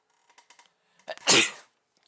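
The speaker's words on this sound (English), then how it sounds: "I gotta sneeze." One close, sharp sneeze bursts out after a few quiet sniffs and breaths.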